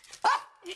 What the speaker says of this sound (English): he is my little playful little puppy